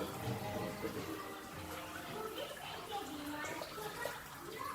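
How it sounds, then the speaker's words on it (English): A tap runs water through a line into a 50-gallon fish tank during a water change, a steady, faint rushing flow heard throughout. "Turn the tap on."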